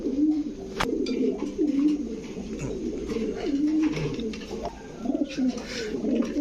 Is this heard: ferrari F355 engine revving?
no